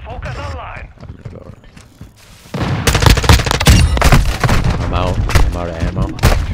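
Gunfire in the video game Modern Warfare II on a Hardpoint match at Farm 18, sharp rapid shots and bursts clustering loudly in the second half, with players talking over the action.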